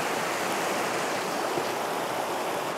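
A mountain torrent rushes in a constant loud wash of white-noise water, close and unbroken, with no voices over it.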